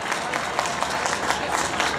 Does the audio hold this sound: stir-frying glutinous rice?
no